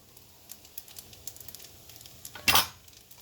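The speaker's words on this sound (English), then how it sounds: "we're just going to give this all a stir together" Shrimp and edamame being stirred together in a sauce in a pan for honey garlic shrimp: soft scraping and clinking of a utensil against the pan over a faint sizzle, with one louder clatter near the end.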